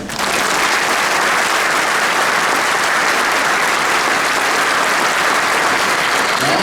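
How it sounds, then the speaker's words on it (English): A ceremony audience at the CDCR Medal of Valor event gives a sustained round of applause, dense and steady from start to finish at full loudness. "so let's give them a round of applause"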